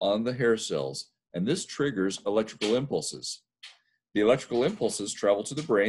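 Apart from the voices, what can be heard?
None of the usual background noises is heard.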